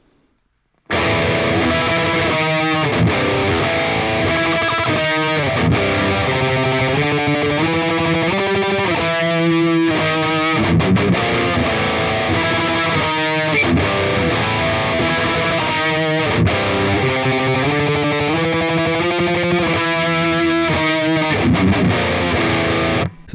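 Heavily distorted electric guitar playing the chorus riff of a song in standard tuning, loud and dense with chugging palm-muted rhythms and sustained chords, continuous from about one second in with no voice.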